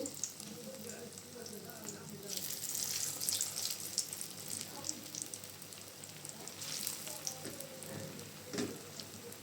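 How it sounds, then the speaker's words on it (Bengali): Marinated chicken frying in hot mustard oil in a frying pan, a soft, steady hiss and crackle that swells into a louder sizzle and stays close and moderate, with a voice at times. "তেলটা গরম হয়ে আসছে। এখন আমি এখানে ম্যারিনেট করা মাংসটা দিয়ে দিচ্ছি।"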